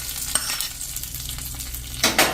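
Hot tempering of crackled curry leaves and spices poured into chilli buttermilk, giving a short sizzle with stirring scrapes and a sharper burst near the end, close and moderately loud with no talk.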